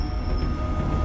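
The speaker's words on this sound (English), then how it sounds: "Get me off of this train." A train runs in a Backrooms video game: a steady, loud rumbling roar with rhythmic low clatter and a thin high whine, heard close and continuous for about a second.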